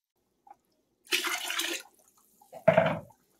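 Chicken broth poured into a soup pot for chicken tortilla soup, two short bursts of splashing liquid, the first lasting under a second and the second briefer and fuller, close by with no talk.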